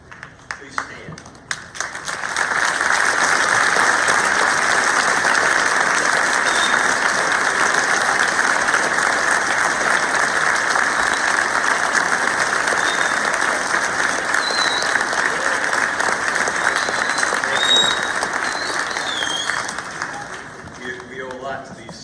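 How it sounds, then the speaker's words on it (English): Sustained audience applause and clapping fill a high school veterans assembly as veterans stand to be recognized, rising after a quiet start and continuing steadily and loudly for about twenty seconds before tapering off. "receive one more round of applause, because you deserve that"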